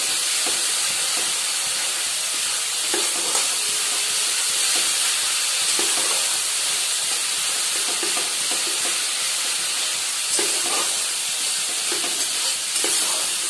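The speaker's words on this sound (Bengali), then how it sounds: "তাই একটু রসুনটা ভালো করে ভেজে নিতে হবে" Garlic frying in hot oil in a pan, stirred now and then for a chicken dish: a constant bright sizzle with soft, periodic scraping strokes of the spoon, close and continuous with no talking.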